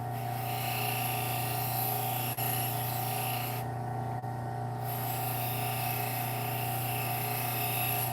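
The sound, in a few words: sharpening a fillet knife on a grinding wheel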